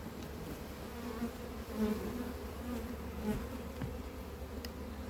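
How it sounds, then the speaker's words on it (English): Steady, dense buzzing of many honeybees flying around a hive frame close by, a continuous droning hum that holds level throughout with no voices. "So the flying bees are going to be the field bees."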